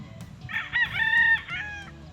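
Gamefowl roosters on a game farm, one crowing clearly and fairly close in a single drawn-out cock-a-doodle-doo, with soft clucking and farmyard murmur beneath.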